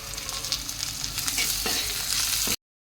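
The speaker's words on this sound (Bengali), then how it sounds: "ওখানে মাছের মুড়ো, ওখানে পেঁয়াজটা ভাজা হচ্ছে" Fish head and onions frying in oil give a continuous close sizzle with scraping stirring noises and bursts of crackle, ending in a sudden cut to silence.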